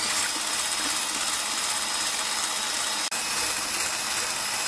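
An electric mixer whips egg whites toward stiff snowy peaks, giving a steady, unbroken whirring drone that holds at an even level for the whole stretch, broken only by one brief dropout near the end.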